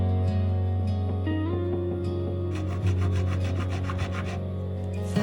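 Sandpaper rubs over a solid wood chessboard inlaid with walnut letters in a steady back-and-forth rasping rhythm, close and clear.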